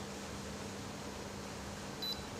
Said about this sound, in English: When you hear the beep, press the plus button